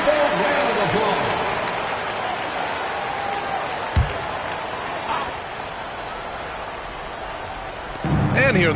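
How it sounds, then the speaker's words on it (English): Crowd applause and cheering in a 2K basketball video game, a broad steady wash of clapping and noise throughout, with a brief thump and a swell near the end. "Give yourself a round of applause."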